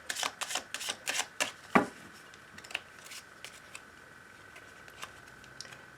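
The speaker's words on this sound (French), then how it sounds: "C'est pas facile de brasser ce jeu." A deck of oracle cards being shuffled by hand, a quick run of crisp riffling flicks and taps up close, then sparser soft clicks as the shuffling slows, with no talk.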